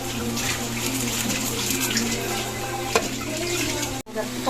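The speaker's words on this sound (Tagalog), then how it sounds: "Hinahalo na po ni Mama." Squash shoots being stirred as they cook in coconut milk, a steady simmering sizzle with soft scraping of the spoon, loud and close, with a brief pause near the end.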